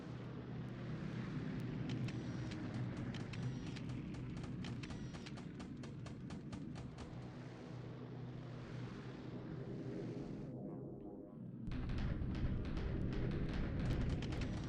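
In the War in the Pacific naval strategy game, a ship sinks with a faint, sustained rumbling roar and hiss. The sound breaks off briefly, then resumes at a similar low level.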